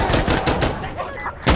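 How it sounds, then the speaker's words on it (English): Video game gunfire in quick bursts, loud and close, with several sharp cracks and rapid shots and a final heavy blast near the end. "Fire the guns, hit him hard."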